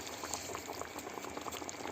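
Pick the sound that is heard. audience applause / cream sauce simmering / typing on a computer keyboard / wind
cream sauce simmering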